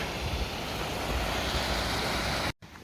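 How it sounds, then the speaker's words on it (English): Small waterfall on a creek along a trail to hot springs: a steady, dense broadband rush of falling water close to the microphone, constant in level, cutting off briefly near the end with no speech. "There's a cool little waterfall here on the creek."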